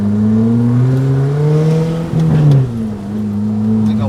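Loud, close Fiat Bravo stage 2 with a 1.8 engine revving, its pitch climbing and falling through a couple of throttle blips over a steady idle.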